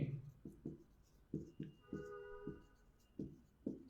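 Pen strokes scratch on paper while a maths solution is written out by hand, in short, spaced bursts with a soft voice speaking quietly between them, close and faint.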